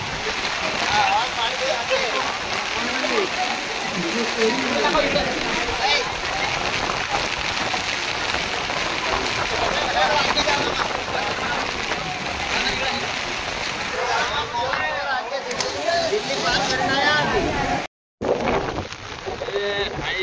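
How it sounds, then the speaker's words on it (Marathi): Dense, steady roar of heavy rain and gusting wind at the seashore in Alibag, filling the whole stretch, with a brief dropout near the end; loud and continuous, with no clear speech. "इकडे खूप तुफान आणि पाऊस पडतोय"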